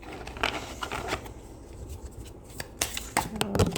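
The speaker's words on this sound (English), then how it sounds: "Let's shuffle. I'm going to get 3 tarot cards first." Tarot cards being shuffled by hand: soft, irregular riffles and snaps come in scattered bursts, close and fairly quiet, with a cluster of sharper flicks toward the end.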